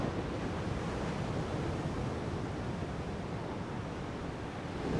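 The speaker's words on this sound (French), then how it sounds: "Il y a partout des bonnes vagues, tu vois." Ocean waves break steadily off the island of Fernando de Noronha, a continuous loud roar of surf with a windy, broadband wash and no voices.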